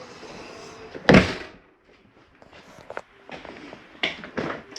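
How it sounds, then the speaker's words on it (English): Entry door of a 2019 Jayco Jayflight 29RKS travel trailer swinging shut with one sharp, close thud, followed by lighter footsteps and small knocks inside the camper. "Close my door and continue the tour"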